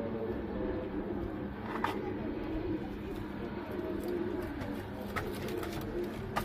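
Teddy pigeons kept for sale cooing in a loft, soft repeated low coos under a steady background hum, with someone talking over them.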